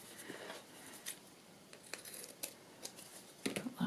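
Scissors snip through paper scraps for trading-card crafting, a string of quiet, short crisp cuts at irregular intervals, close by with no talk.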